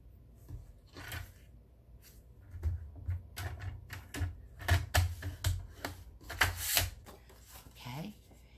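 A vanilla cardstock base is handled and scored on a scoring board: a run of close, sharp clicks, taps and short scrapes in irregular bursts, with a brief voice near the end.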